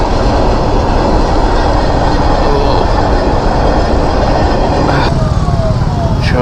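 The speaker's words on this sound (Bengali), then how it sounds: "ট্রেন যাচ্ছে।" A goods train rolls past beside a road on a bike trip from Siliguri to Kolkata. It is a loud, close, continuous rumble of wagons with clattering wheels, and a voice speaks briefly over it.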